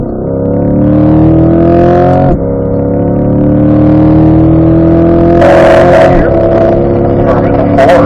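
Corvette engine pulling hard in 4th gear on a race track, a loud close rising drone with a brief dip near the start, while an instructor talks over it.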